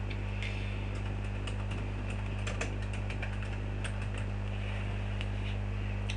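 Keys tap steadily on a computer keyboard as a video title and description are typed, light irregular clicks over a constant low electrical hum, with no one talking.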